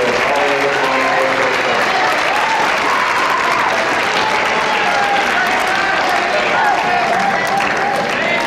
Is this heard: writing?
no